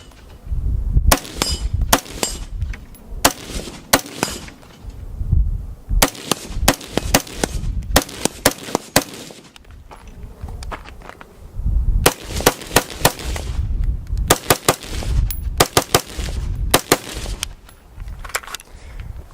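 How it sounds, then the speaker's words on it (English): Gunfire from an Aero Precision M4E1 rifle fitted with Leupold rings and a LaRue trigger: sharp, loud reports fired in quick groups and strings across the clip, separated by brief pauses, with no talking. "This is a Aero Precision M4E1."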